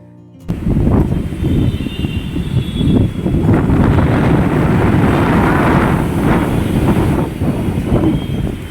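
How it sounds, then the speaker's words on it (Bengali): Strong gusting wind buffets a microphone beside a busy road, a loud steady low rumble with passing vehicle traffic underneath, continuous throughout with no voices. "একদিকে এই গাড়ি ঘোড়ার সাউন্ড তার সাথে এই রোডের ওপরের জন্য হাওয়াটা মানে প্রচুর"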